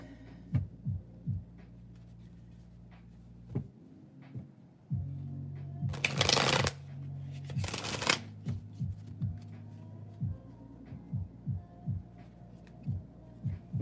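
Tarot cards are shuffled repeatedly, with soft rhythmic riffles and two brief louder bridging bursts, close and quiet over a faint low hum.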